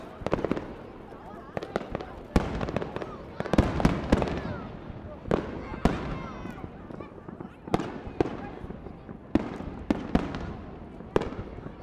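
Fireworks bursting at night, a long run of sharp booms and crackles at irregular intervals, some close and loud, others softer and farther off, with little pause between blasts.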